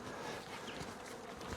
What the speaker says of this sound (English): this is one of my bees